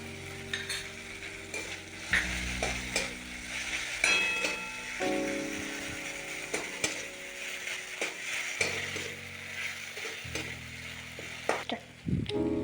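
Garlic paste fries in a pan, a close sizzling hiss that swells and drops as it is stirred, with utensil scrapes and knocks against the metal marking each stir.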